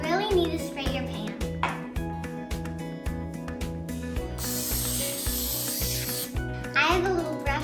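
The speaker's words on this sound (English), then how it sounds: "You really need to spray your pan." Cooking spray hisses onto a baking pan for a toy Easy Bake Oven in a steady burst lasting a couple of seconds, amid mechanical clicking and a voice.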